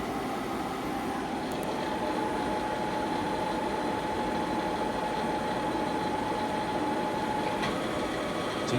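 Spindle of a 2014 Okuma Genos L300E-MY CNC lathe running at 500 RPM, a steady, continuous mechanical hum with a faint tonal whine, close and unchanging throughout with no talk.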